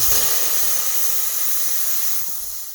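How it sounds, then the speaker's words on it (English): Steam wand on a La Spaziale Vivaldi II S1 espresso machine releasing a steady, loud, close hiss that runs the whole time and tapers slightly toward the end. "when using the steam, you can see the amount of steam pressure decrement based on the amount of steam"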